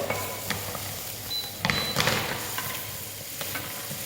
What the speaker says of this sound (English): We're going to add the onions now and we're going to nicely mix it